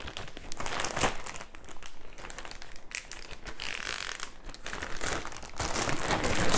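Crinkly plastic bag of mushrooms sloshing in about 8 cups of marinade, shaken hard and continuously for several seconds, with dense rustling and crumpling close up and no talking.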